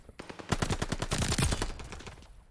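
Rapid automatic gunfire from a strafing run in Call of Duty, a burst of about twenty sharp shots in quick succession, loud and dense in the middle and thinning toward the end.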